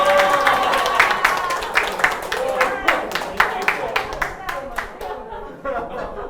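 An audience at a Korean church lecture claps in a quick, steady rhythm, moderately loud and close, while a voice talks over it.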